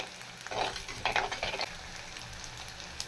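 Garlic sautés in a pan for garlic dosa, a faint, soft sizzle lifted by a few quick stirring scrapes in the first half-second to second and a half, then settling back to a quiet fry.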